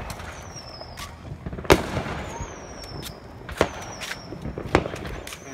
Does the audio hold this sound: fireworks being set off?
yes